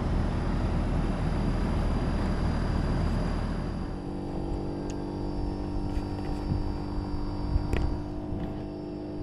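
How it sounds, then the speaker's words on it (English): A mini-split heat pump's outdoor unit hums with a broadband fan roar that drops away partway through, leaving a steady tonal compressor drone that keeps rising, along with a few faint clicks. "I hear the compressor revving up. Condenser fan motor slowing down."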